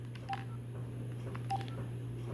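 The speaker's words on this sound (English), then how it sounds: "I'm going to do this on my landline. I'm going to call into 1202" A landline telephone keypad sends DTMF tones, two short beeps spaced about a second apart over a steady line hum, quiet and close.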